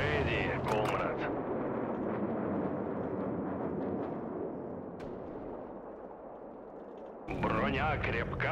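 Soviet cannon and gunfire in the World War Armies video game, a dense run of repeated shots and booms under music with a voice, and a louder burst near the end.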